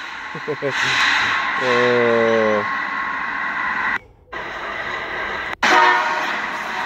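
A train rumbles along tracks right beside a house at midnight, with short, loud horn blasts and a prolonged wash of rolling railcar noise, cut by a couple of abrupt breaks.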